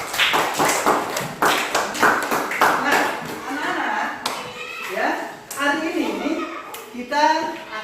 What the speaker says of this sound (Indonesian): Kita beri aplaus dulu untuk sila.